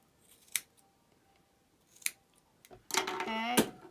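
Scissors trim the yarn ends of a small crocheted elf scarf, giving two separate crisp snips followed by a quicker burst of cutting, close and fairly quiet.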